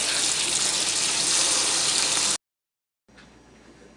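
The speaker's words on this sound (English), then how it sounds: "Let's rinse the beans off really well." Canned beans rinsed under a running tap, a loud steady gush of water for about two seconds that cuts off abruptly, followed by quieter faint running water.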